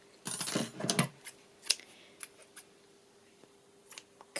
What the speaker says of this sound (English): cutting my yarn,